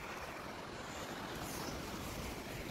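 Sea waves and wind on a wide open beach give a dense, steady roar that stays loud and unbroken throughout, with no voices.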